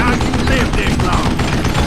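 Rapid bursts of gunfire in the Western shooter Call of Juarez Gunslinger, loud and close, forming a dense fusillade that runs through the whole moment.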